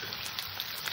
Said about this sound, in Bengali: পেঁয়াজ কুচিটা দিয়েও নিচে হালকা নাড়াচাড়া করবো